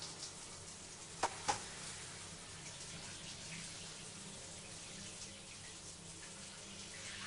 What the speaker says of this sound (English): This is how Lara takes a shower.